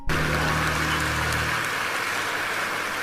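Church audience applauding, a dense, loud, steady wash of clapping that runs the full length, with a low hum fading out partway through.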